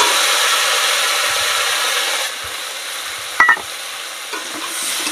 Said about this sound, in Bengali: এবার মশলাটা দিয়ে ভালো করে কষিয়ে নেব